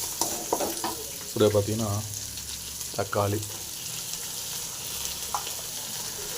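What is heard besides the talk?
tomatoes and spices frying in a pan for brinjal gravy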